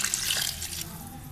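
Water from a glass poured into a pan of browned potato and minced meat for dhaba-style aloo keema, a steady close splashing pour running the whole moment with no talk.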